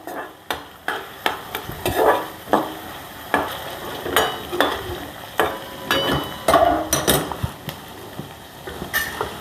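Onions frying in a pan are stirred in quick, rhythmic scraping strokes of a spoon against the metal, loud and close over a steady sizzle.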